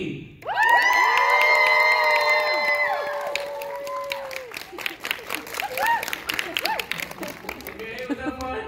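A KCON 2022 convention audience in Los Angeles bursts into loud cheering and high-pitched screams that peak early. The noise then breaks into scattered shouts, whoops and claps as it gradually dies down.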